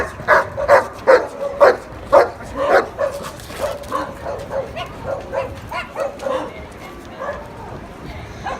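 A Walnut Creek police K9 barking during training, a rhythmic series of loud, eager barks that gradually soften into quicker yips and whines, with someone talking over them.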